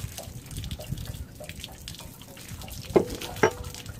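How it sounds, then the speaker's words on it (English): Water draining from a Suburban RV water heater tank, a steady close trickle and splatter with drips, plus two sharp metallic knocks near the end. "So we just gotta let that drain out"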